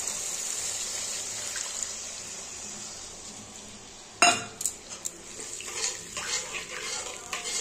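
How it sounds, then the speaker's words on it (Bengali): Spiced water from a bowl is poured into fried masala in a pan over a low gas flame, bringing a sudden burst of sizzling and hissing after a quiet stretch, then scattered crackles and spatters. "এটার মধ্যে সেই বাটিতে যে মশলাটা ছিল সেই জলটা দিয়ে দিলাম।"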